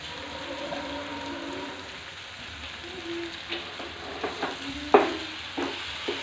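Prawn fry stirred in a pan after simmering covered, with a faint, low sizzle and a few light scraping stir strokes toward the end, the clearest one close and sharp.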